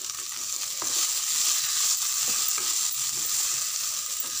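Soaked flattened rice (poha) tipped into a hot oil tempering for pulihora gives a steady, close crackling sizzle with faint stirring scrapes, no voices.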